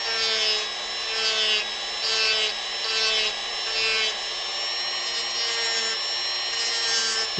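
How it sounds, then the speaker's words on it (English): Rhythmic rasping strokes as a carved wooden model sniper rifle is sanded, close and steady, each back-and-forth pass swelling and fading in a regular pattern with a faint squeaky edge. "I guess this is kind of sanding in a way."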